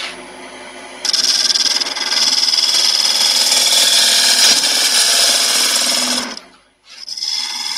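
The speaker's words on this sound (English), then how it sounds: "So I'll be using a mixture of my spindle rough and gouge and spindle gouge to get this shaped." Wood spinning on a lathe for a feathered vase, cut with a spindle roughing gouge, gives a loud, steady broadband rasping hiss for several seconds, then drops away near the end before a quieter tone resumes.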